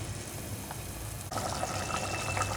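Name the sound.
water poured into cooking pot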